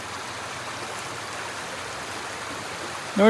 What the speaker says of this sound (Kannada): ಹೊಳೆ ನೋಡಿ ಎಷ್ಟು ಚಂದ ಉಂಟು, ನೀರು ಕೂಡ ನೋಡಿ ಎಷ್ಟು ಚಂದ ಉಂಟು